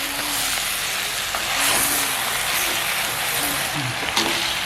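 Quail pieces fry in oil in a pan for a spicy Jaffna-style quail thokku, giving a continuous broad hiss with faint tonal hums underneath.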